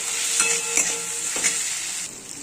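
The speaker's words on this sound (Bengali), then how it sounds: "এবার ভালো করে কষিয়ে এর মধ্যে আমি বেগুনটা দিয়ে দেবো।" Potatoes and eggplant sauté in a pan with ground spice paste, salt and turmeric, giving a steady close sizzle broken by a few scraping stirs and a quieter tail near the end.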